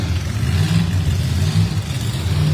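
A drag race car engine fires up in the race pits at Maryland International Raceway, a steady, loud, low rumbling drone that holds throughout with slight swells, close by and without talk.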